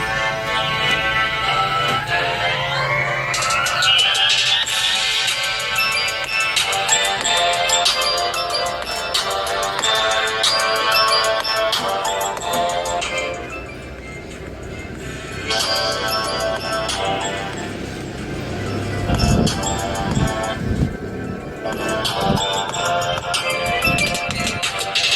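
Music plays through the loudspeaker of a Poco M5 phone in a playback test, a continuous melodic track with a thin low end, heard alone and close.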